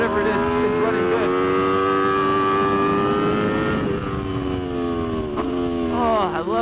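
An Aprilia RSV4 RF superbike revs hard and steadily, its engine note holding high with brief dips around the quick-shifted gear changes, loud and close throughout.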